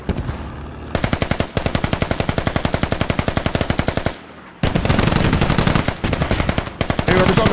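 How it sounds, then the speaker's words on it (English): A machine gun fires long sustained bursts in the military shooter game Squad, rapid evenly spaced shots loud and close, broken by a brief pause before another long burst resumes. "whoever's on the gun, which direction are you shooting?"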